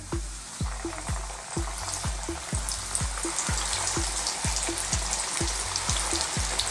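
Pork tenderloin pieces drop one after another into hot sunflower oil, each landing as a low splash over a steady, loud, crackling sizzle that runs throughout at a regular rhythm.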